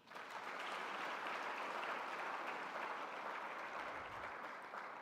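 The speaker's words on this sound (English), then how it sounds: "Another round of applause." Steady applause from an audience at a presidential inauguration, a dense even wash of clapping that holds for the full length without talk.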